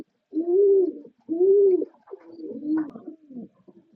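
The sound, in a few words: Lakka fancy pigeons cooing while sitting on eggs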